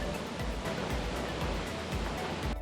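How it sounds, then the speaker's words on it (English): Rushing water roars steadily, a constant broadband wash like a waterfall nearby in Savage Gulf, Tennessee, with no voices. "There's a waterfall over there."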